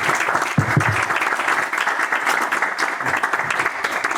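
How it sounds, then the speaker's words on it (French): Steady applause from an audience at a talk in Rennes, France, fills the whole stretch, dense and continuous with no pauses, a few low thumps scattered within. "un applaudissement s'il vous plaît"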